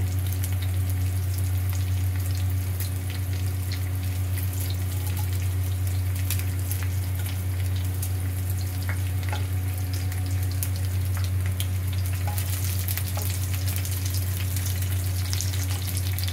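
Spices and dried red chillies fry in a kadai for a Bengali shukto. They make a continuous sizzling crackle over a steady low hum, with no talk.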